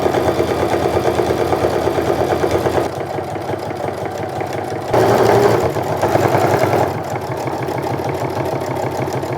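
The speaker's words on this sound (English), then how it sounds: "we're going to top stitch down both sides of this" A sewing machine runs steadily, top stitching along both edges of a fabric sling bag with a 1/4 inch stitch, its close, continuous mechanical whir pausing and shifting speed over about nine seconds.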